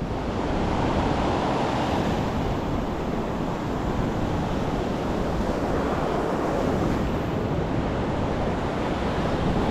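Sea waves roll onto a beach in a steady, loud roar of surf, mixed with wind rushing across the microphone, with no voices.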